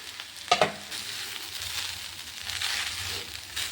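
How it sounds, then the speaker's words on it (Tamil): Grated coconut is sautéed in cooking oil in a pan, starting with a sharp clatter as it drops in, then a soft steady frying hiss and light stirring close by. "இப்போ நம்ம இதில் கொட்டிக்கலாம். வதங்கணும் தேங்காய்."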